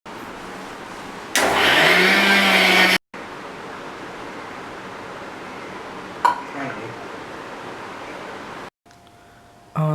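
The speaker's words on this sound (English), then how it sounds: "So after putting the curd into the mixing jar, so now we will be now going to mix it." A mixer grinder blends green coriander chutney with curd in its jar, a loud steady whir that runs for about two seconds before cutting off, set against a quiet kitchen with brief clatter afterward.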